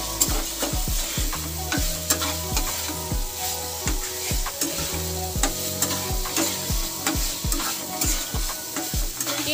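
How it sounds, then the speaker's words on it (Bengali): Potatoes and spices fry in a pan for a fish curry while a utensil stirs them, giving steady sizzling broken by frequent scraping strokes against the metal, close and continuous with no talking. "এরপর আলুর সাথে মশলা ভালো করে কষিয়ে নিচ্ছি।"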